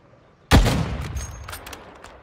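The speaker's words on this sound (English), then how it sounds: "Someone called in an airstrike." A single heavy airstrike explosion in the Warzone Mobile video game hits suddenly and loud, then rumbles and fades over about two seconds with faint crackling debris.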